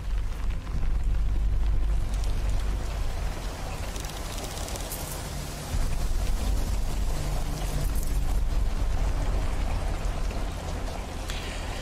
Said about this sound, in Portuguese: Olha o barulho da chuva,